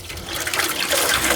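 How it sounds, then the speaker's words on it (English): Liquid drains out of a cool-treat machine in a steady, rushing pour of water that holds fairly loud and even throughout, with no talking. "we're gonna just drain this out"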